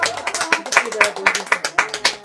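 Rhythmic group clapping in a church, a steady beat of sharp claps roughly twice per second, fairly close, with voices mixed in.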